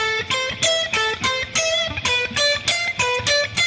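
Distorted electric guitar plays rapid repeated triplet arpeggios in a neoclassical style, each figure played twice before the chord changes, loud with sharp note attacks and a steady driving rhythm.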